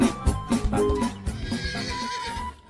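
A white horse neighs, a short loud whinny with a few bursts, close by.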